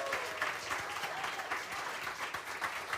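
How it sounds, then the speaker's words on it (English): An audience at a cabaret show at 54 Below in New York City claps steadily, a fairly soft and even round of applause with no talking. "clap"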